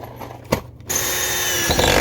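A power drill bores a hole into a wooden craft table, its steady whine starting abruptly after a short pause and running loud and continuous to the end.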